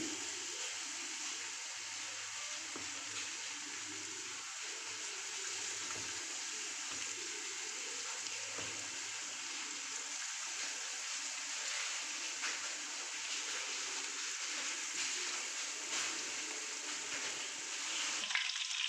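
Small pieces of marinated chicken pakora fry in hot oil, giving a steady, even sizzling hiss that continues throughout at a moderate level.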